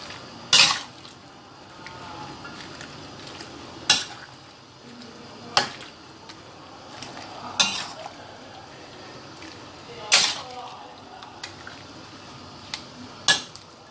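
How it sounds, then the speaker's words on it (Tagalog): Bean sprouts are stirred into pancit lomi in a pan. A utensil scrapes and knocks against the pan in sharp clacks every couple of seconds, with a soft sizzle and faint shuffling underneath. "Tsaka yung bean sprout. Then, stir lang natin ulit."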